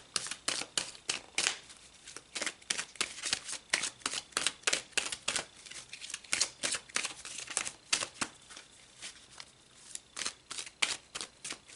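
Tarot cards being shuffled by hand, a rapid run of crisp riffling flicks and soft slaps repeating steadily for the whole stretch, close and fairly quiet with no voices.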